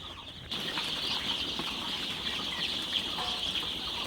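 Dense, continuous high-pitched chirping from many four-day-old Sonali super hybrid chicks, steady and fairly close, with a busy flock-like chatter throughout.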